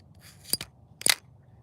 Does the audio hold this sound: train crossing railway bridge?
no